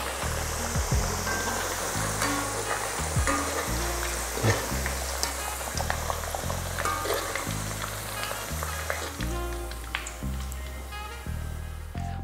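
Potatoes frying in hot oil for kaldereta give a steady, close sizzle with occasional stirring scrapes, while a rhythmic low background tone runs beneath and no one talks.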